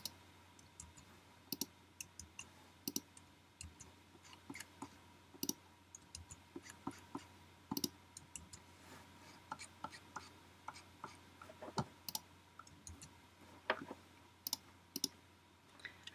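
A computer mouse clicks steadily while artboards are edited in Adobe Illustrator, with many small, crisp, close clicks in an irregular rhythm over a faint background hum.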